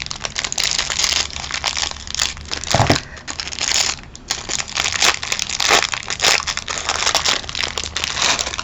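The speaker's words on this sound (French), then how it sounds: "c'est encore emballé dans des plastiques horribles. Je vais pas prendre 8 jours pour l'ouvrir. Je vais couper ça" Plastic packaging being cut open and crumpled, loud close crinkling and crunching in irregular bursts with a brief sharper snip partway through, no talking.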